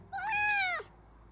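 A single clear cat meow from a cat in Life is Strange: Double Exposure, rising then falling in pitch, close and loud, standing alone with no talk over it.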